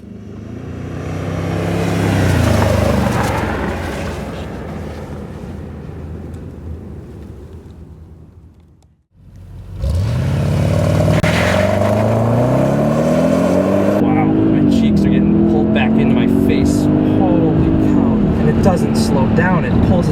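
A 2003 Audi RS6 with a twin-turbo V8 accelerates hard, its engine note climbing through the gears with a brief lift between shifts, loud and close from inside the cabin, while someone talks over it.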